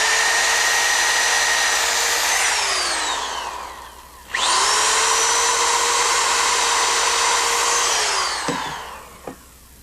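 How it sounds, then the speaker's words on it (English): A cordless power drill whines at high speed while pre-drilling deck rail panels, spinning down around the midpoint and revving back up for a second long run before stopping with a couple of faint clicks. "what we're doing is just pre-drilling these, putting a couple screws on both sides"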